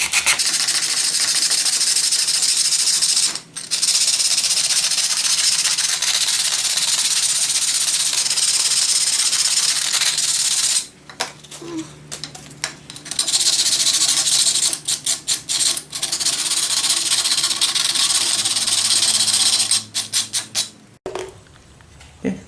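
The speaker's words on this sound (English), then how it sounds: "take a little bit off of it with some sandpaper, and then hit it again with the emery cloth" Sandpaper and then emery cloth rubbed over an edge of an AK rifle action part, giving close, steady rasping strokes in long runs broken by short pauses.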